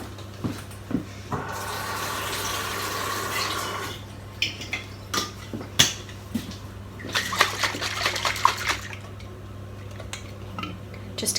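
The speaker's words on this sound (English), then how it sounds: "And then I'm going to add a little water." Water poured into a pan of enchilada sauce made with passata, a broad trickling pour lasting a few seconds amid clinks of pans and utensils in a home kitchen, with a second pouring stretch later; no one talks.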